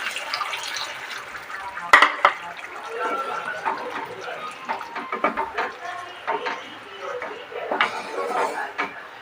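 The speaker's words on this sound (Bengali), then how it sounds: "তোমরা একটু জল অ্যাড করে দেবো।" Water splashes into a hot pan of spices for a yogurt catla fish curry with a sharp hiss, then a steady bubbling sizzle continues, with occasional utensil clinks.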